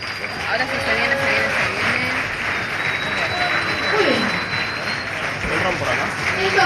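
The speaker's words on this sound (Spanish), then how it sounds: "¡Fuerte aplauso para todos los players!" An audience applauds the players at a Spanish-speaking competition event, a dense, steady wash of clapping with crowd voices and cheers mixed through it for several seconds.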